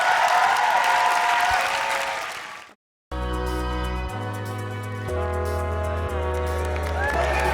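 A crowd at the Roundhouse Poetry Slam Grand Final 2014 breaks into loud applause and cheering, which cuts off abruptly after a few seconds and gives way to music.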